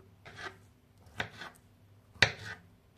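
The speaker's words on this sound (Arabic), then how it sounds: "نقصوه كيف جويد، ما نقصوهوش خشين كما قاعد نشوفوا لهنا كيفاش نقص فيه" A knife chops vegetables finely, peeled and cut small for a Tunisian green salad with cucumber, apple, tomato and pepper; three separate close, crisp strikes on a board, spaced about a second apart, with faint rubbing in between.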